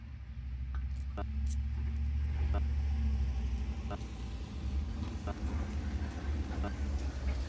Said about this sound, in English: Here's the big trucks rolling by.